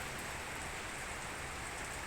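Steady rain falls on a cool evening, a dense even hiss of drops spattering continuously across surfaces, close and unbroken, with no voices.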